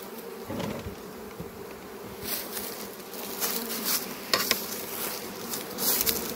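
A dense, steady buzz of many honeybees fills the space close up in a low-frame hive, with occasional louder wingbeats and light knocks against the hive.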